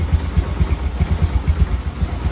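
A Honda Activa scooter with a weak battery and a faulty key set, kick-started and left idling, putters close by in a steady, even rhythm of low engine pulses.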